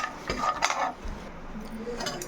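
A spoon scrapes and clinks against a pan as cashews are stirred and lightly fried, a few brief close metallic strokes over a faint background hiss.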